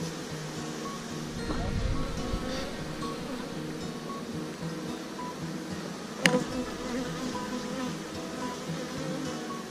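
Honey bees buzzing steadily at a Japanese beehive, a dense continuous drone close to the microphone with a single sharp click partway through.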